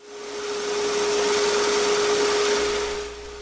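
A wood lathe spins a wooden candy bowl, giving a steady whirring drone with a constant motor hum that swells and holds, then tails off slightly as it winds down.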